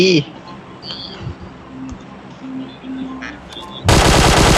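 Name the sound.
gunfire in the video game PUBG Mobile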